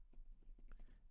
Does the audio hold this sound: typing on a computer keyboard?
yes